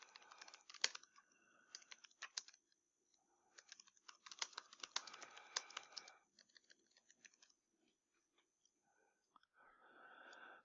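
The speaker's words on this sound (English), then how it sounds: "If I could type." Typing on a computer keyboard while building a quiz: close, quiet bursts of rapid key clicks broken by short pauses, with no talking.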